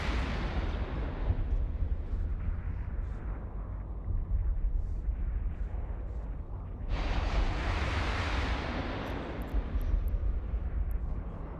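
Ship weapons fire in the space game EVE Online as heavy, rumbling blasts roll over a dense low drone, swelling into a louder burst of roaring discharge about two-thirds of the way through.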